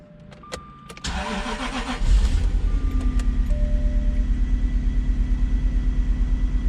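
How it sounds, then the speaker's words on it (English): A Jaguar XK8 with a misfire cranks briefly and catches, then settles into a loud, close idle with a steady, rhythmic lumpy pulsing that runs unbroken to the end. "Let's see if that horrible knocking has gone away or misfiring"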